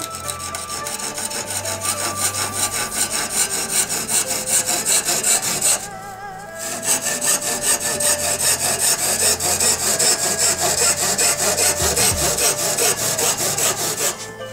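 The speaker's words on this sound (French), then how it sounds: "Ensuite vous prenez une petite scie à métaux, vous mettez sur le bord ici et on suit le trait." A small hacksaw cuts a fibre slat along a marked line, steady close rasping back-and-forth strokes running almost without break, with one short pause partway through.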